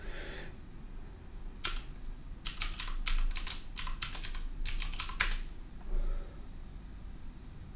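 Quiet, close keystrokes on a computer keyboard as a password is entered at a command line: a single tap, then a rapid burst of typing in two clusters, with brief pauses between.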